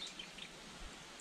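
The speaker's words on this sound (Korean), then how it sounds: "주변에서 새 울음소리도 많이 들리고요" Faint, high mountain bird chirps come in a few short calls over quiet outdoor ambience on a trail below Jaeyaksan in Korea's Yeongnam Alps.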